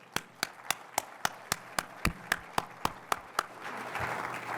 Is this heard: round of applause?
yes